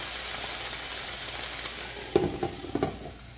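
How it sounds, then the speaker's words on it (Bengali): Bok choy greens fry in a pan over medium heat with a steady, close hiss of sizzling, then a few stirring scrapes and clatters near the end, with no voices. "শাকটাকে আমি ঠিক 3 মিনিট ভাজবো মাঝারি আঁচে"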